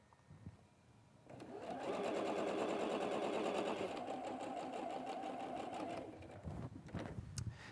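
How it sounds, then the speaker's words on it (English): A sewing machine stitches quilt pieces in a fast, steady mechanical chatter for several seconds, close by, then slows and stops with a few clicks. "we can head back to the sewing machine and add the other half square triangle"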